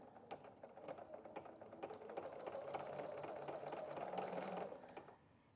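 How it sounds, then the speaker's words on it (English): A BERNINA sewing machine with a ruffler foot stitches fabric into pleats. It runs in a quiet, steady mechanical whir with rapid, regular ticks from the pleating action, then slows and stops near the end. "And I'll take a couple of stitches to get it started."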